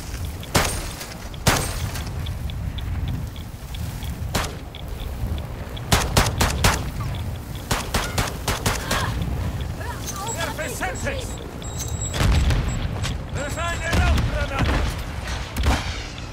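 Gunfire in the Warzone 2.0 DMZ video game near the Zaya Observatory, with repeated sharp shots, rapid bursts and heavy booms scattered over a busy game soundscape, while people talk throughout.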